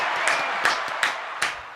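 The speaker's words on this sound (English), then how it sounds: "Trying to get a round of applause." A canned round of applause and clapping triggered from a button on a live sports talk show, a brief burst of claps with several sharp peaks, steady and fairly close.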